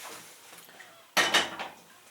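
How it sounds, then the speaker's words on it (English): Homemade liquid laundry detergent is stirred in a pot, giving a sudden scraping, clattering burst of utensil against metal that rings on for about half a second before fading, with quiet room tone before it. "Just stir, and that's it."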